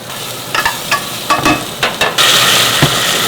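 Tempeh frying in a pan, a steady sizzle broken by several sharp scraping stirs, then a louder continuous hiss of frying near the end.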